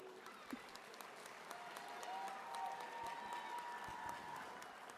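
A graduation ceremony audience at a charter school applauds in appreciation of honored individuals; faint, distant, steady clapping fills the room, with a thin tonal hum and scattered sharper claps.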